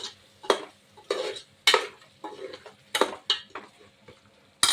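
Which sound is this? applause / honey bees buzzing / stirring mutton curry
stirring mutton curry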